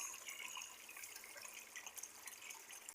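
Water runs steadily from a tap while rice is being washed, a continuous soft splashing and trickling that cuts off abruptly at the end; no speech.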